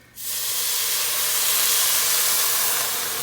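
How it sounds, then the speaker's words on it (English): A loud, steady sizzling hiss as water hits a hot pan of rice for Mexican rice, bursting in suddenly and holding for about three seconds, close and continuous with no talking. "Okay, we got the sizzle."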